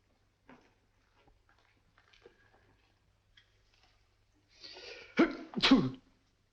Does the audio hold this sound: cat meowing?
no